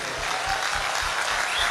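A large audience at a business gathering in India claps loudly and continuously, a dense wall of applause that never lets up.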